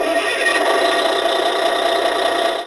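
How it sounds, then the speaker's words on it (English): A harsh, buzzing electronic engine rumble from a 2019 Hess toy tow truck runs steadily and loud, like a toy motor idling, then stops abruptly at the end. "we get an engine starting and an idling sound."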